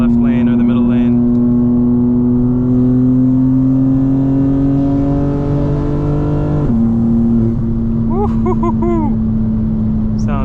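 A 2025 BMW M4 Competition in Sport Plus with exhaust valves open, heard from inside with windows up: loud, sustained engine drone that climbs in pitch, drops after a shift, then crackles and pops as it settles.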